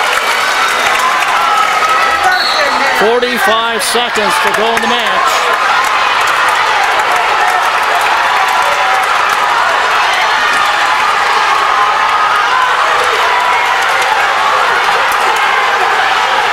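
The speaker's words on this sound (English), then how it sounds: "Tomah crowd trying to get behind Von Haden now" A crowd at a Tomah vs. Holmen high school wrestling dual cheers and claps for Tomah wrestler Von Haden, a loud, steady roar that runs throughout while a commentator talks over it.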